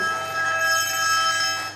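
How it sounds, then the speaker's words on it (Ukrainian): A phone rings with a steady, bright electronic tone throughout, fairly loud and close, with no one talking over it. "Ігорко дзвонить"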